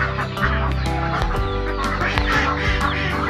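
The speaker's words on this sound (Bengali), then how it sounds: "চীনা হাঁসের বাচ্চা" Chinese ducklings quack repeatedly in a busy overlapping chorus on a poultry farm, close and fairly loud, with no talking.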